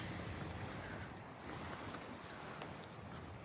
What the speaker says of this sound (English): those engines are running great